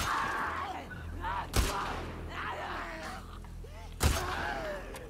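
Two sharp gunshots from The Last of Us Part II gameplay crack out about two and a half seconds apart over a dense bed of game ambience and creaking, groaning noise, with no voices heard.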